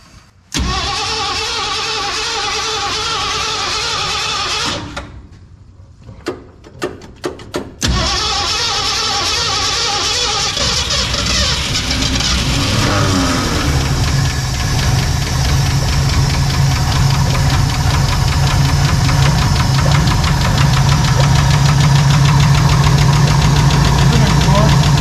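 A Ford 302 V8 in a 1968 Chevy C10 cranks with a brief stumble, sputters, then catches and settles into a loud, steady, rough-edged idle, close up and continuous.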